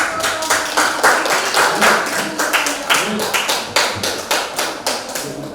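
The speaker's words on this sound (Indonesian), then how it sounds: "kita beri aplaus" Audience in a classroom clapping, a dense, steady run of close hand claps lasting several seconds with a voice faintly under it.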